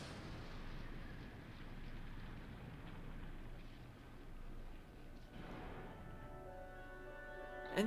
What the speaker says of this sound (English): And it's a rocket ship.